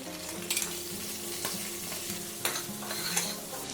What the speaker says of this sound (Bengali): পেঁয়াজটা খুব ভালো করে ভেজে নিতে হবে।